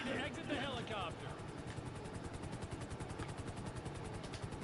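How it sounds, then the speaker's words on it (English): Helicopter in flight in a video game, a continuous loud rotor chop with a steady pulsing beat, heard under a voice speaking at the start. "Almost there. Get ready to exit the helicopter."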